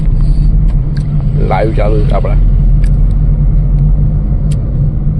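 Dense road traffic crossing a bridge over a railway line, a steady loud rumble of passing vehicles throughout with occasional brief higher clanks, and someone talking briefly over it.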